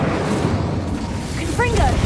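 An Incendio fire spell cast in the Hogwarts Legacy game, a loud rumbling burst of flame with a roaring, eruptive texture, while a voice speaks over it.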